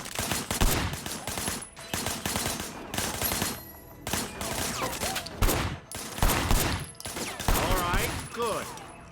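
Repeated bursts of loud gunfire in the game Sleeping Dogs, fired from behind a barricade. The volleys are separated by short pauses, with a whining, swooping sound running under some of them.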